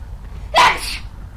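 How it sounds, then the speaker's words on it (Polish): A single sharp sneeze bursts out close up, loud and brief against a quiet room tone. "czasem mam takie ranne kichawki"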